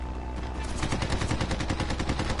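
Enemy gunfire in the flight combat game Red Wings: Aces of the Sky during a sandstorm mission, a loud continuous burst of rapid machine-gun shots rattling in quick succession.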